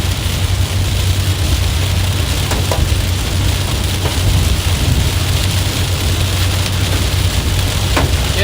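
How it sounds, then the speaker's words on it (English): Loud, dense roar of rain and hail pelting a storm-chasing vehicle under a supercell in southeast Missouri, with scattered sharp pings of larger stones striking the body over a low rumbling drone. "getting a little hail in it."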